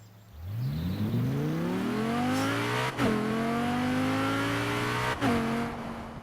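A sports car engine in the video game Forza Horizon 4 revs up strongly through the gears, its pitch climbing and dropping at two quick shifts, loud and close, with no talk.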